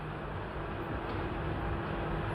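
Steady, continuous rumble of a train running, loud and unbroken throughout with low-frequency hum, in a scene from the Arrow TV series.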